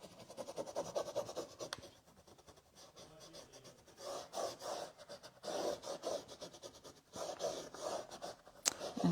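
A stencil transfer being rubbed onto a wooden tic tac toe board, heard as close, soft scratchy rubbing strokes in irregular bursts with short pauses between, and no talking.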